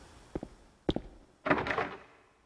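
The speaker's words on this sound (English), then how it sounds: "Can't get the door open." A locked door in the video game Silent Hill 2 refuses to open: two pairs of short dull rattling thunks, then a louder, longer clattering handle rattle that fades out.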